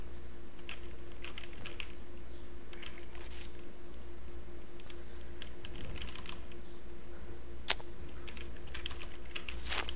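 Computer keyboard keys are pressed in irregular clusters of quick clicks and taps during a video game, close and fairly clear over a low steady hum, with one sharper louder click near the end and no talking.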